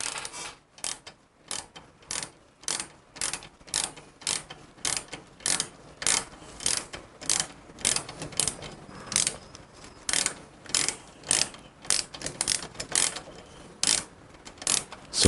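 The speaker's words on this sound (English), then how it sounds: "And that would be a ball end Allen wrench." Ball end Allen wrench working bolts loose on a Harley Evo rocker box, a steady run of sharp, evenly spaced ratcheting clicks, close and loud, repeating in rhythmic bursts throughout with no talk.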